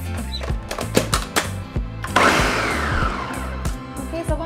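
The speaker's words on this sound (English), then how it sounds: "And now we're just going to blend until we have a smooth sauce." A countertop blender purees green chiles, cilantro and two cups of water into a smooth sauce for green chili tamales, loud and close with a grinding whir and repeated chunky knocks as the ingredients churn.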